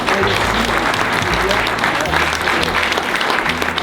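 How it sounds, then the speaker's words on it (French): An audience at a volunteers' evening in Sainte-Julienne applauds, a dense, steady wash of clapping from many hands that carries on for several seconds. "oui, on peut l'applaudir"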